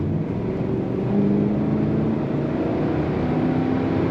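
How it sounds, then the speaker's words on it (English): A 1990 Chevrolet 454 SS pickup with its big-block V8 and louder exhaust accelerates on the road, a deep steady engine drone rising slightly in pitch, heard from inside the cab with no talk. "Let's hit the throttle again."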